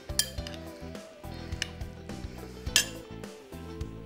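A spoon clinks and taps against dishes while a seafood tart is prepared, a series of light metallic chinks and scrapes at an irregular pace, close but quiet, with no voices.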